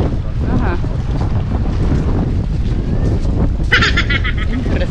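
Strong wind buffeting the microphone with a constant roar, waves and open water at high tide in the background, brief voices underneath, in Sorsogon, Philippines.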